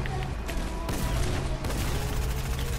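Bursts of rapid gunfire from a shooter video game, with overlapping volleys and booms in a dense, loud exchange that shifts intensity twice, faint voices underneath.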